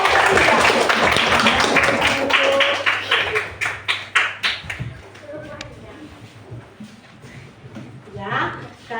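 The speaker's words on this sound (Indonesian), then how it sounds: "Tepuk tangan untuk kelompok" Elementary classroom applause for a student group after a presentation, a burst of children's hand claps that starts full, thins into a few separate claps and fades out, with voices talking over and after it.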